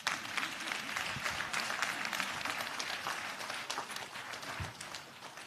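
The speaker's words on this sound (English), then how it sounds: "the honest people that work with UBA should clap for themselves" Sustained applause from the audience at a bank's annual general meeting, dense and steady throughout with scattered louder claps and a brief thump near the end, no clear talk over it.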